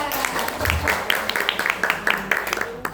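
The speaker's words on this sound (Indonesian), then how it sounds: "Boleh dong tepuk tangannya buat MC kita" Audience applause at an event, scattered and uneven handclaps at moderate distance, building into a lively patter of individual claps throughout, with voices faintly mixed in.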